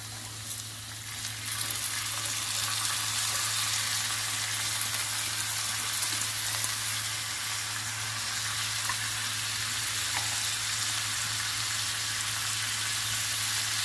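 Cut cluster beans frying in a hot pan: a steady, close sizzling hiss that runs without a break over a low background hum, with a few faint ticks and no speech.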